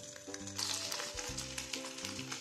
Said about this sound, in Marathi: हलकेसे शॅलो फ्राय करून घेऊ।